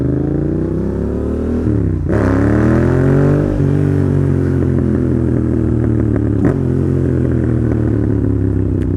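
A Yamaha FZ motorcycle revs loudly up close, then pulls away through rising gear changes, its engine note sweeping up and dropping with each shift.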